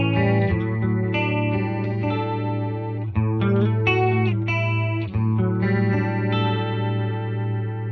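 A Red Witch Apothecary guitar pedal set to vibrato colours sustained electric guitar chords with a steady pitch wobble. The playing is continuous and fairly loud, with brief breaks between strums and no talking.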